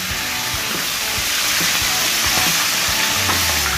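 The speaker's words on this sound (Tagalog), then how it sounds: "Nagangalit ang mga mantika" Hot oil sizzles loudly and continuously as chicken fries on an electric grill, a dense close crackling hiss with small pops scattered through it.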